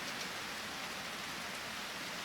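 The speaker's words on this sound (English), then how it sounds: "Alright, I just realized it's a rainy day." Steady rain falls on a rainy day in the farming game Harvest Moon: Grand Bazaar, a dense, constant hiss of drops with no breaks or speech.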